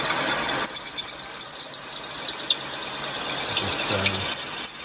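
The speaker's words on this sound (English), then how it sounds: "So I just start up the drill very slowly." A drill spinning up slowly on a Cosworth YB engine part, a thin high whine that pulses rhythmically and gradually shifts pitch, close and continuous with a short lower grinding near the end.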